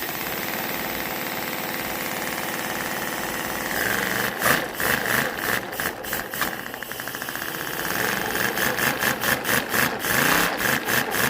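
A V4 engine built from paper, run on compressed air, idles in a steady dense chatter that turns into a quicker, pulsing rattle partway through, close and fairly loud with no talking.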